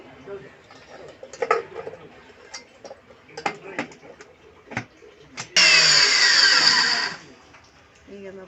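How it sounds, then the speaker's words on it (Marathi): Walnuts ground fine in a kitchen mixer grinder while making dink ladoo, a loud steady whirring burst lasting about a second and a half that starts abruptly after scattered clicks and handling noises, then stops. "हे अक्रोड आहे, याला पण आपण आता बारीक करून घेऊ."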